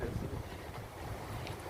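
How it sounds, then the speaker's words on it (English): Strong wind buffets the microphone outdoors on an overgrown path, a steady low roar and rumble lasting the whole moment with no voices over it. "It's very windy."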